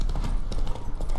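Roach, a horse in The Witcher 3, gallops with rapid, rhythmic hoof clip-clops on hard ground, close and steady over a short burst.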